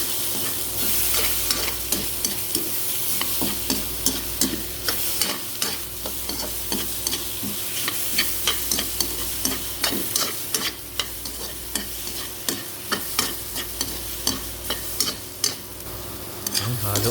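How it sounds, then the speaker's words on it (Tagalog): Brown rice fried with egg and ampalaya is stirred in a pan, a spatula scraping and tapping rhythmically over a continuous sizzle and a low steady hum. "Haluin po natin ulit."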